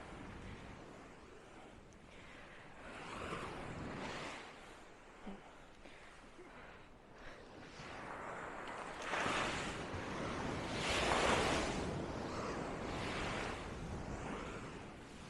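Ocean waves washing in and rolling onto the shore, a soft, distant surge that swells and recedes, rising strongest toward the middle, with some wind.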